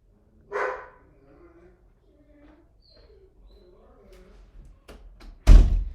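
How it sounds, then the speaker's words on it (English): House dogs let out a short burst of barking near the start, then soft scattered sounds follow, and a loud sharp bang near the end, probably the garage door going up, ends the stretch. "Sorry for the barking dogs"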